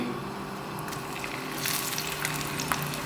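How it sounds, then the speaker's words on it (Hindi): Sliced onions hit about half a cup of hot mustard oil in a pot, giving a steady close hiss and sizzle that swells partway through and continues alone. "इसके बाद हम इसमें प्याज डाल देंगे।"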